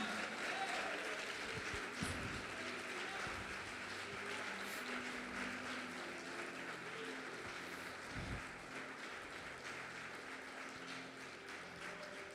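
A church congregation applauds with a steady, dense wash of clapping that runs throughout and slowly thins toward the end.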